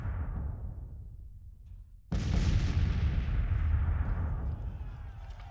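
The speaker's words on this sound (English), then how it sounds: "The artillery have been wailing away so hard, we're starting to run low on artillery ammo on some of the units." Artillery fire in the Civil War strategy game Grand Tactician, a sudden loud boom that rolls into a long rumbling echo, following a fading earlier blast.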